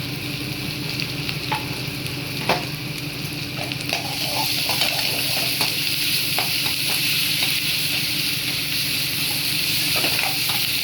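Ginger garlic paste sautéing with onions in a pan, a loud, steady frying sizzle with repeated stirring scrapes and clacks of a spoon throughout, no talking.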